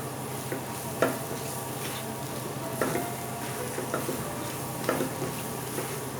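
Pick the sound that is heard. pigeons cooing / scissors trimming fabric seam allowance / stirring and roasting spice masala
stirring and roasting spice masala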